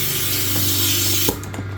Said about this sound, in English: disconnect our air hose